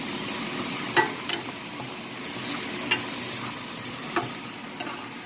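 Ground chicken frying in a pan for creamy chicken giniling, with a steady broad sizzle throughout and a few sharp clicks and taps of stirring utensils against the pan.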